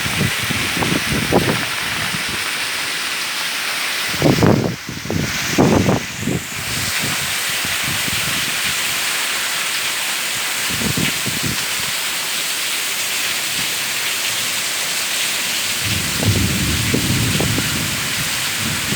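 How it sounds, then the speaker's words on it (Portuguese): Heavy rain pours steadily on a Sunday night in Tejuçuoca, Ceará, Brazil, with deep thunder rumbles rolling in around the middle and again near the end. "Tem um trovão agora."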